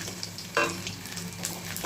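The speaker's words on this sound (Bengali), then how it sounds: "চলো একটু ভাজা করে নিই আমি নারকেলটা ভাজা ভাজা হয়ে গেছে" Coconut fries in a pan with a bright, steady sizzle, and a short scrape of stirring breaks in partway through. Close and fairly loud, heard while cooking a traditional vegetarian Bengali water lily stem dish.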